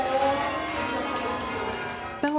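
Church bells rung by a team of bell ringers, overlapping bright metallic tones sustaining and layering, with a fresh clear strike near the end.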